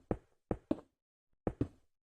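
A concrete block being placed in the Minecraft video game, heard as five short, dull knocks in two close groups, crisp and near with silence between them.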